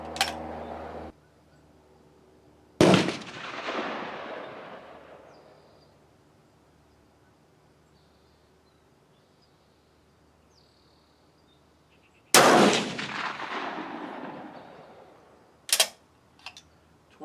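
Rifle shots fired during load development on a range: a few sharp, loud reports spaced seconds apart, each with a decaying echo tail, plus a fainter crack near the end.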